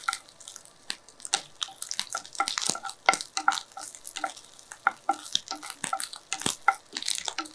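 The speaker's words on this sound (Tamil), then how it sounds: "இப்போ நெய் கொஞ்சம் ஊற்றி தேங்காய் துண்டுகளை நல்லா செவக்க வறுத்துக்கலாம்" Crackling, sputtering pops of coconut pieces frying in hot ghee, with scattered sharp bursts and a soft stirring scrape throughout, close by.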